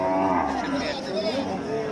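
Cattle low in a drawn-out moo at a Qurbani cattle market at Ganesh Bazar in Chakaria, Cox's Bazar, close and fairly loud amid crowd noise.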